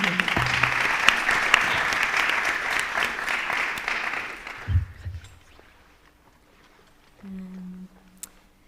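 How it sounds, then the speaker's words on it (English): An audience at an academic symposium claps for two students: brisk, full applause for about five seconds that then quickly fades out, leaving a quiet room with faint sounds afterward. "so another applause."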